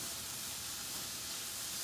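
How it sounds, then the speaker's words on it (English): Garlic and vegetables sauté in a pan, making a continuous even hiss of steam and sizzle that stays close and unbroken throughout. "And then we're just gonna mix this together and saute it for 30 seconds."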